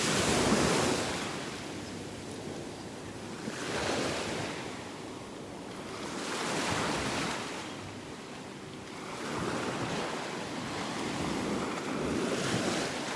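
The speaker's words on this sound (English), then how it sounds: "You can see when the waves go down." Ocean waves break on a beach in North Naples, Florida, rolling in as slow, regular surges every few seconds over steady wind noise, with no talk.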